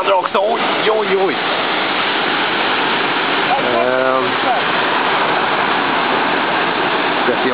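Rushing water at the Aratiatia rapids on a river, a loud, continuous broadband roar of churning whitewater that fills the whole clip, with brief voices faintly audible over it.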